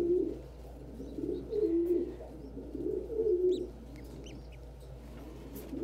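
Pet pigeon cooing close by indoors, a series of soft rolling coos in repeated bursts over a quiet background, with a few faint higher sounds.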